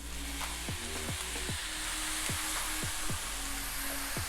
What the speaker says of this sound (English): So here we will add some soy sauce right on top of our rice.